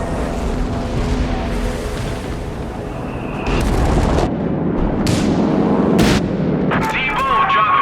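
Bombs drop on a Company of Heroes 3 battlefield in a loud, dense mix of deep booms and gunfire over a constant rumbling din, with sharp impacts toward the end.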